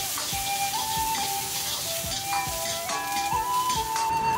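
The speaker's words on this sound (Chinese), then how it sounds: "重新起锅，烧热后下点猪油，有羊油的最好是用羊油，下姜丝和香菜干，一起爆出香味" Ginger strips and dried coriander fry in hot lard in a wok, giving a steady, close sizzle with a few light clinks of a utensil against the metal.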